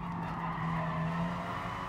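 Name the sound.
race car braking with tire squeal in video game GT Sport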